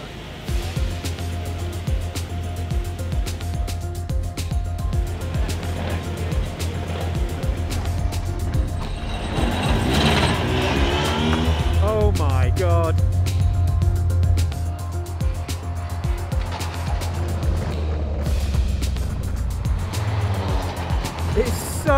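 A Formula 4 race car pulls away from the pit lane at Brands Hatch, its engine droning loud and close throughout with a rising note midway as it gathers speed, wind rushing over the microphone.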